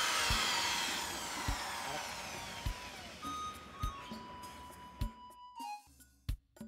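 A power drill boring a hole in the round wooden head of an ektara: a whining motor slows and fades, followed by scattered knocks and clicks on the wood.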